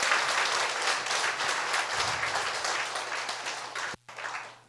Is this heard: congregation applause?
yes